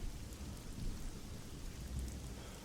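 Steady heavy rain pours with a low rumble of thunder through a storm, an even hiss of drops over deep bass, with no voices.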